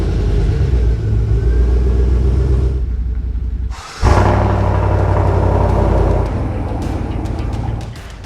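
A pickup truck's engine runs loud and close as it pulls out of a home garage into the driveway, a steady idle with a brief dip, then a rev and continued rumble.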